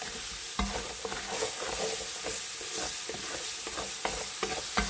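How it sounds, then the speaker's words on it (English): Paste for beef bone broth toasting in a pot: a steady close sizzle with repeated scraping stir strokes, loud and continuous throughout with no voices. "And I want to toast this paste"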